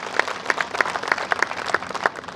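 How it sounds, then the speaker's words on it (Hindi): A crowd at a Hindi poetry recital held at a police line ground in Palamau, Jharkhand claps for a few seconds, a dense, even patter with distinct sharp claps standing out near the front. "तो बस एक बार जोरदार तालियां सब बजा दीजिए"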